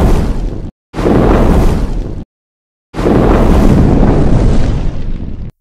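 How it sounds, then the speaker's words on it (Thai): Cartoon dimensional portal opening in a board-game adventure cartoon: three loud, dense whooshing bursts with short silent gaps between them, the last one longest and sustained before cutting off. "เปิดประตูมิติไปยังกระดานถัดไป"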